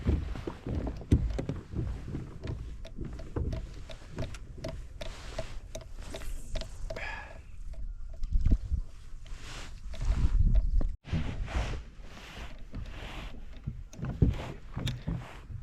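Wind buffeting the microphone while kayak fishing on Galesville Reservoir in Oregon, a low rumbling gusting roar with knocks and splashes from the kayak, fairly close and steady throughout.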